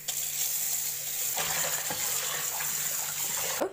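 Tap water running steadily while raw beef tripe is washed, a constant close splashing hiss with a few small knocks and no talk.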